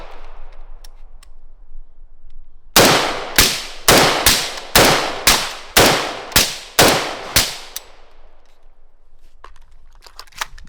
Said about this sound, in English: we're gonna be doing unsuppressed 16-inch 556 versus suppressed with our TUA 556 suppressor